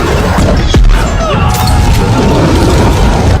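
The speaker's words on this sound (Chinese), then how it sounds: "剧烈的爆炸顿时将几个黑帮成员吞噬" In a film action scene, a shotgun blast ignites a leaking motorcycle fuel tank, producing one loud, close boom and crash followed by rumbling, scattering debris.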